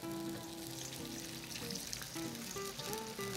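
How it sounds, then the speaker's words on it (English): Tomato poured slowly into hot olive oil in a pan, giving a steady close-up sizzle and crackle with small bubbling pops throughout, no voices. "Empty the tomato into the pan slowly."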